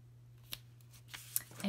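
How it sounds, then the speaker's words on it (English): Scissors make a few faint, brief snips as they trim the edge of a paper greeting-card layer, set against quiet room tone. "trim this little edge off a little bit"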